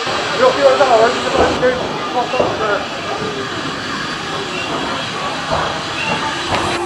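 A harbour railway train rumbles past in Bristol with hissing and clanking wagons, a steady rolling noise throughout, with voices briefly heard over it early on.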